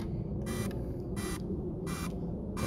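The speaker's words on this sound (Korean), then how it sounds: "이런 식으로 드론이 부저를 울려줍니다." A DJI Mavic Mini drone's find-my-drone buzzer sounds three short, shrill beeps at an even rhythm over steady outdoor background noise.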